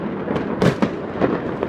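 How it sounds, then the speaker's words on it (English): New Year's fireworks bursting in quick succession, a few sharp booms and crackles close by, loud and alone without voices. "Fireworks! Wow! This is fantastic!"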